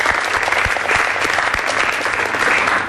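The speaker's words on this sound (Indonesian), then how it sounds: "Tepuk tangan untuk Ibu Kartini." Steady, dense audience applause welcoming a guest speaker at an online business seminar, loud and continuous throughout with no talking.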